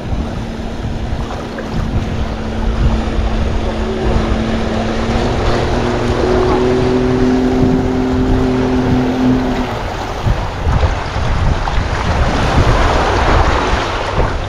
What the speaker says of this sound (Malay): Ombak.